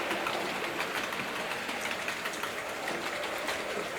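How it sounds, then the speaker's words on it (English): Several analogue Hornby Terrier model locomotives running on a model railway layout, giving a steady, dense rolling rattle of small wheels on track that carries on without a break, close by and with no voices. "I hope you enjoy seeing these locomotives run"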